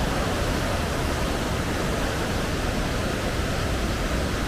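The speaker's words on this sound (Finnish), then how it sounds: "Siinä sitä virtaa vettä" Rushing water of the Hiiden Hurmos rapids in Oulanka National Park, a loud, steady broadband roar that stays constant throughout, with no other sounds rising above it.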